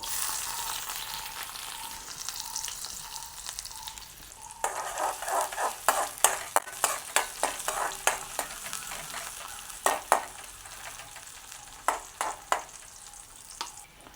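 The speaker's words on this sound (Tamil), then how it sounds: "எண்ணெய் வந்து சூடாகிடுது. கொஞ்சமாக பெருஞ்சீரகம் போடுறேன். ஒரு பாதி பம்பா வெங்காயம் போட்டுக்கொள்ளுவோம்." Fennel seeds and half a large onion fry in hot coconut oil, a steady sizzle joined after a few seconds by a run of sharp stirring scrapes and clicks, close and without talk.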